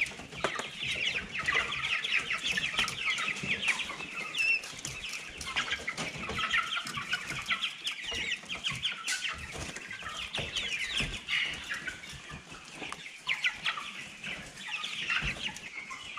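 Chickens cluck steadily at close range while eating PK-6.2 compound feed, a dense flock chatter with occasional wing flaps and no talking.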